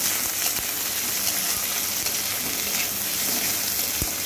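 Cut potatoes and bottle gourd peel frying in a pan give a steady, close sizzle with faint stirring scrapes throughout, with no talk.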